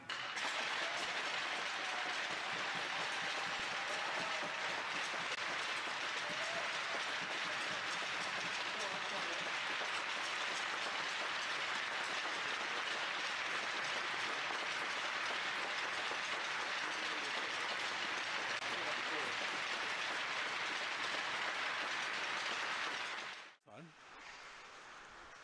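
Sustained applause from a large crowd in an ice hockey arena, a steady wash of clapping that holds for over twenty seconds before cutting off abruptly.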